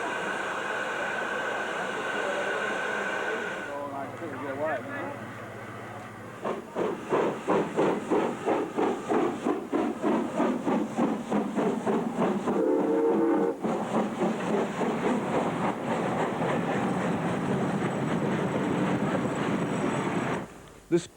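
The Flying Scotsman steam locomotive runs alongside another engine in the outback just outside Alice Springs, its loud, rapid, rhythmic chuffing laid over a constant steam hiss and rail rumble.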